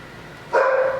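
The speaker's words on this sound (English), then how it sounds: "What are you barking at, dude?" A dog named Odie lets out a single short, sharp bark at close range in an otherwise quiet indoor room.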